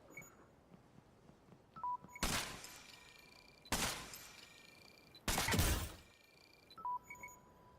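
Several loud bursts of video-game gunfire in an online shooter, three heavy broadband blasts spaced a couple of seconds apart, with brief electronic beeps between them and no talk.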